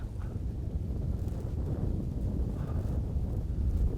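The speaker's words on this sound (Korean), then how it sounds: "딱 바람이 전혀 뭐 더욱 정말 강하게 불어 불어오고 있습니다." Strong, gusty winter wind roars across an outdoor fishing spot, buffeting the microphone with a continuous low rumble that swells and eases slightly.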